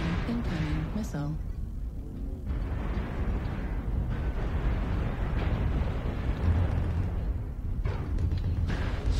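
MechWarrior Online incoming missile explosions rumble in a dense, continuous barrage of low booms and bursts, close and heavy, with in-game voice alerts layered over the blasts.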